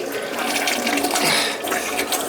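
A toilet drains and flushes at close range, with a steady rush of water swirling down the bowl and no talking.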